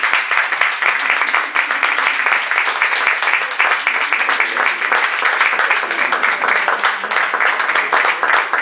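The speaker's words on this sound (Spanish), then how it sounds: "Un aplauso." Sustained, loud, dense applause from an audience at a book presentation, a continuous wash of clapping close by from start to finish.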